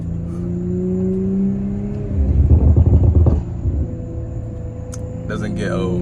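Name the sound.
2021 Audi RS5 engine and exhaust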